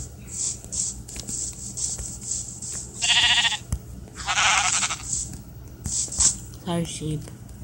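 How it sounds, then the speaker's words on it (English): Minecraft sheep bleat in bursts amid game sounds while a player talks over them, near and moderately loud. "Sheep."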